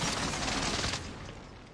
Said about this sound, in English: Someone was shooting from over here.